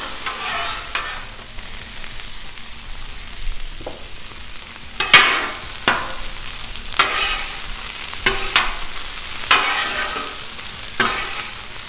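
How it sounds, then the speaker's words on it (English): Onions and scallion whites sizzle on a Blackstone griddle for turkey fried rice, a steady frying hiss broken by repeated scraping and stirring strokes of a spatula, fairly close with no talking. "So I got some onion right here and the whites from some scallions I'm going to throw in there."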